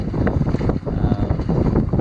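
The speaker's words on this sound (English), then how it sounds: "Since then the wind has picked up and the fog has diminished." Strong wind buffets a boat near Peconic Bay, a loud continuous rumbling gust noise with rhythmic pulses and microphone roar throughout, no voices.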